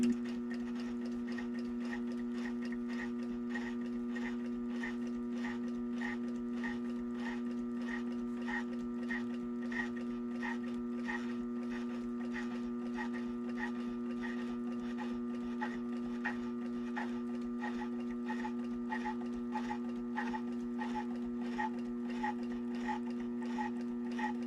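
A sewing machine top stitches a fabric candy bag in a quiet room, running with a steady hum and a fast, even patter of needle strokes that continues without pause, close and fairly soft.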